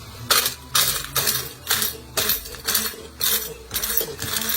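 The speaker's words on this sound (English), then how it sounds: "I'm now going to grind these" A handheld blender wand grinds whole spices for an Indian-style fish curry, with loud bursts of whirring and rattling that repeat in short, even pulses, close by, about eight in all and no talking.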